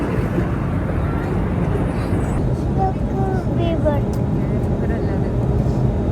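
A steady, loud engine drone fills an IndiGo aircraft cabin in flight from Mangalore to Dubai without letup, while people talk quietly beneath the hum.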